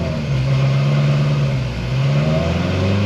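A Corvette C7 Z06 with an RPM Stage 4 build, running a partial E85 blend, drones loudly through a full-throttle pull. Its pitch climbs, briefly dips, then rises again, with no talking.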